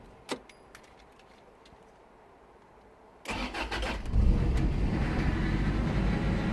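A Toyota Previa that has sat unused for a while starts up after a steering fluid refill. A quiet idle with a key jingle comes first, then the starter catches and the engine settles into a steady, loud idle.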